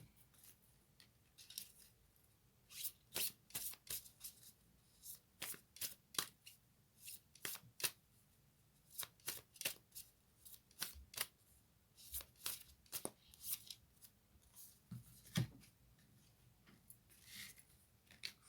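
Oracle cards from a Moonology deck being shuffled, with a rapid run of crisp riffling flicks in irregular bursts, close and fairly quiet, with no talking.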